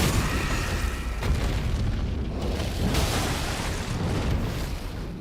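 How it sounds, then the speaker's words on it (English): Heavy artillery explosions rumble in Elden Ring, forming a continuous loud roar of booms with a few sharper blasts rising out of it and no talking. "about to call in the artillery"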